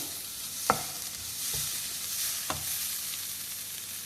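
Pav bhaji masala vegetable filling is stirred in a pan over steady low sizzling, with three soft spoon scrapes spaced through the short stretch, close and fairly quiet, with no voices.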